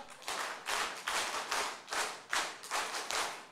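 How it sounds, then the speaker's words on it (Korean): A church congregation at a revival meeting claps in unison, about nine sharp, evenly spaced collective claps in a brisk steady rhythm, loud and close. "이렇게 박수 10번"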